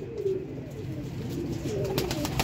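Bater-breed pigeons coo in a loft: a few soft, low throaty coos, close by over a faint background hiss.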